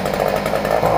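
A two-stroke engine runs on choke during warm-up, a loud, close, steady buzzing drone with a slight rhythmic flutter throughout the short burst, no speech.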